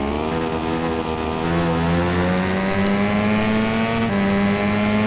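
A MotoGP 13 racing motorcycle engine from the video game whines loud and continuous, its pitch climbing steadily through the gears with a brief dip at a shift.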